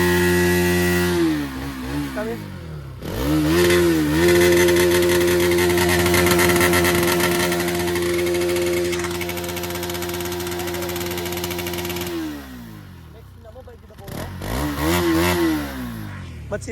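A Bajaj Pulsar NS 200 motorcycle engine runs close by, idling with a steady harmonic drone and rising into two sharp throttle revs, then settling back to a lumpy idle before another pair of revs near the end.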